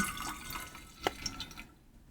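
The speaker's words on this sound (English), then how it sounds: "I'm going to pour this into my thermos so it will stay warm but stop steeping." Tea is poured into a thermos: a soft, steady liquid trickle with a brief drip-like splash partway through, quiet and close, stopping abruptly near the end, with no talking.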